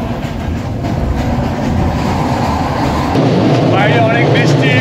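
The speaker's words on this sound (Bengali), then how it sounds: "আর এ হচ্ছে হ্যাটন টু ক্যান্ডি, ওদের লোকাল ট্রেনের এক্সপিরিয়েন্স।" A second-class local train runs from Hatton to Kandy in heavy rain, its steady carriage rumble and wheel clatter continuous throughout, with voices murmuring faintly inside the coach.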